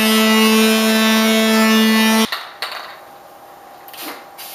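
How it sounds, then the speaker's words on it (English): An electric sander works a Baltic birch wood sign with a loud, steady motor hum for about two seconds. It then cuts off, followed by a few faint knocks and handling noises. "So I'll go ahead and sand"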